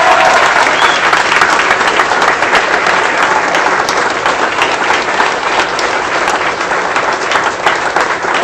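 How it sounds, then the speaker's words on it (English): A large crowd at a 2016 campaign kickoff rally for Congressman Lee Zeldin applauds Stacey Dash, with loud, sustained, dense clapping and some crowd noise throughout. "give a big round of applause to Stacey Dash"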